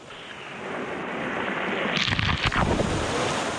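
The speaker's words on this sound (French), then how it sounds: "we hear the sound of a waterfall and the dried up stream that is becoming a torrent" Roaring rush of a dried-up stream turned torrent after heavy rain, with a waterfall nearby, a broad steady wash of water heard from a distance and swelling slightly toward the end.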